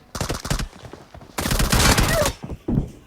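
M4 rifle gunfire in a video game comes in rapid automatic bursts: a short volley, a pause, a longer sustained stream, then a brief final burst, loud and close.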